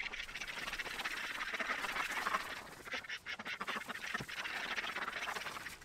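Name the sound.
ducks quacking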